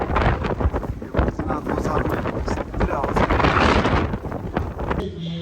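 Loud, gusty wind buffets the microphone in a continuous roar, with rumbling low bursts throughout.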